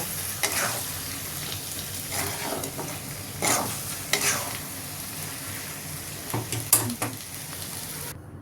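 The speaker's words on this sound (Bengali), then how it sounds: "সামান্য পরিমাণ জল দিয়ে আবার আমি এটাকে নাড়াচাড়া করে নেব।" A mushroom curry is stirred in a pan with a little water added, giving soft scraping strokes and a gentle sizzle in a steady, uneven rhythm of spoon movements, close up with no voices.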